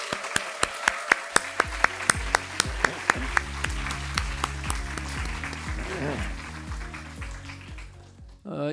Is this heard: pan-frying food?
no